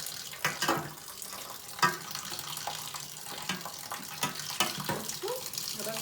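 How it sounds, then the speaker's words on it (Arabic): Cooked lentils are rinsed under running tap water in a home kitchen while preparing koshari, a soft continuous splashing broken by sharper spatters and clatters, fairly quiet. "بصوا جربت شطفته شطفه كده برده بعد السوا"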